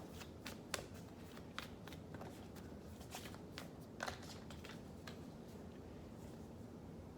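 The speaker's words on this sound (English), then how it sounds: "I'm going to pull a Moonology card first." A Moonology oracle deck is shuffled by hand, giving repeated quiet riffling snaps and papery slides, close and faint, with no speech.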